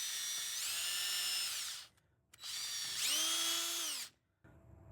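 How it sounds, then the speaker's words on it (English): Wire wheel spinning against the rear brake rotor mounting surface of a 2013-22 Ford Super Duty F-250/F-350, two loud sustained whirring bursts with a brief gap between, close up. "use a wire wheel to clean the surface just like so"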